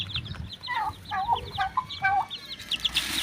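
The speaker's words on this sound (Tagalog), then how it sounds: "May konting sisiw tayo mga idol." Chicks peep and cheep in a busy, repeated chatter on a backyard farm at feeding time, with high trills close by and soft clucking from hens underneath.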